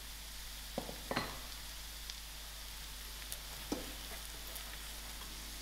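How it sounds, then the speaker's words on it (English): Onions, chilies and garlic frying in a pan for a seafood stir fry make a steady, quiet sizzle throughout, with a few faint clicks of a utensil stirring. "I'll allow this to fry for a few minutes"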